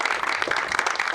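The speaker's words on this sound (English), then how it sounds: "Let me just give a round of applause for them and the whole team at MassDOT." A small outdoor gathering at a rail trail ribbon cutting claps for the MassDOT team, producing a short burst of moderate, scattered applause.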